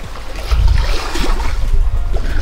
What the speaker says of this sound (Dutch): We varen nu op de motor vanwege geen wind eigenlijk.